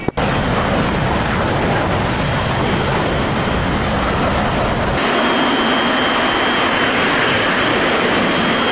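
Jet engine roars at full power during a military aircraft takeoff in the DCS World flight simulator, a loud continuous blast that shifts in tone halfway through, with no talk.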